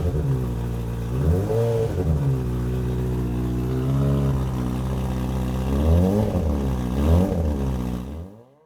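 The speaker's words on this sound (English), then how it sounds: "So I took the Kawasaki ZZR 1400 Gen 1 out for a test ride" Kawasaki ZZR 1400 Gen 1 motorcycle engine revving up and down through several loud, close rises in pitch, running continuously with no talking and cutting off abruptly at the end.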